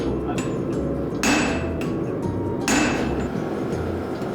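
Hot steel knife blade held in tongs being hammered at a forge, two heavy ringing hammer blows about a second and a half apart over a steady background roar.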